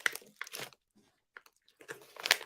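Someone chewing a crunchy candy bar: loud, close crunching bites in uneven bursts, with a quiet pause in the middle and no talk.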